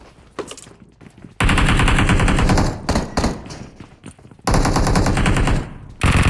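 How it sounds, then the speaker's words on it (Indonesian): Bursts of gunfire in the mobile battle royale game PUBG Mobile, loud rapid volleys cutting in and out, with sharp repeated shots in dense clusters separated by brief quieter gaps. "Nggak kena, malah dia yang kena shotgun."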